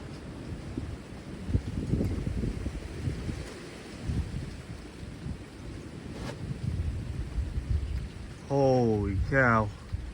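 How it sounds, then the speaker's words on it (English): Heavy rain with gusty winds in a storm, a steady hiss and rumble of wind noise throughout, with a brief voice near the end. "Heavy rain and gusty winds."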